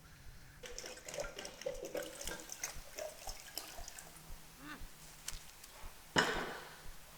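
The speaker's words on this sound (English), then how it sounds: "Now I'm going to go get some water." Water runs from a kitchen tap while kombucha is being made, heard as a close, irregular stream with scattered clinks and a brief louder splash near the end.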